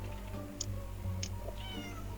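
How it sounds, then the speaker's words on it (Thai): A cat meows repeatedly in the video game Identity V, with short, fairly faint mews over a steady low background hum and no talking. "อุ้ยตกใจเสียงแมว"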